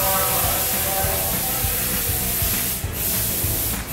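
A trigger spray bottle mists cleaner over a white car during a wash, giving a steady, loud broadband hiss that runs unbroken for several seconds with a couple of brief dips near the end.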